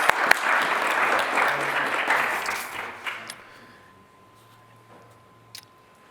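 An audience at an evening history presentation applauds steadily for about three seconds, then the clapping fades out, leaving a few scattered claps and near silence.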